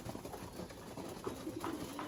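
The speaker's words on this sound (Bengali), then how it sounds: "তো এই হলো কবুতর গুলা" Pigeons cooing in a loft of around forty birds, including a few racers, soft low coos rising now and then over a faint steady background hum.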